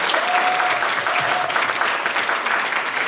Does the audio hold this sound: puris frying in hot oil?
no